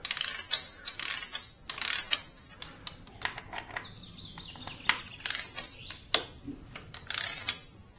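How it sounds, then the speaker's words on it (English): A 12 mm ratchet socket wrench loosens the front brake caliper bolts on a Suzuki DR-Z400S, giving crisp bursts of rapid metallic clicking separated by short pauses and softer handling clinks. "we need to unscrew these 2 bolts. It needs a 12 millimeter socket wrench"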